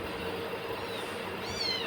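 A house cat gives a brief meow near the end over a soft, low household background.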